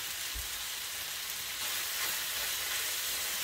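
Rice frying in a pan for a burrito, with a steady, close, dense sizzle and faint stirring underneath, and no talking.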